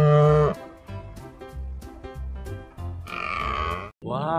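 A buffalo moos loudly and close by, opening with a long low call, then a run of rhythmic grunting pulses, and ending with a rising moo.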